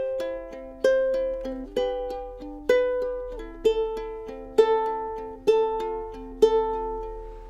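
Ukulele fingerpicking pattern played in three time, clean plucked notes in a steady waltz-like rhythm with a slightly accented first pluck of each group, close and alone with no voices.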